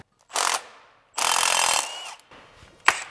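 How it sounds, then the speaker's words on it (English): A half-inch socket on a ratchet or power driver loosens bolts on a John Deere 60 or 90 series planter row unit, in three loud close bursts of rapid mechanical rattling separated by short pauses. "So I'm gonna take the shifter plate off and also the depth handle with a half inch socket."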